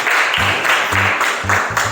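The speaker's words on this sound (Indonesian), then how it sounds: "Oke, tepuk tangan buat Ima" A classroom audience claps for a student, giving a short burst of brisk, fairly close applause lasting a couple of seconds.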